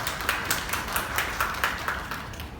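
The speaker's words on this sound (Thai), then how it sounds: "ขอเสียงปรบมือต้อนรับคุณรังสิยาะมลพนะครับ ผู้ชำนาญการสิ่งแ วดล้อมครับ" A small seminar audience claps in scattered, uneven rhythm to welcome an environmental expert at a highway design project orientation, the applause fairly quiet and thin against a low room hum.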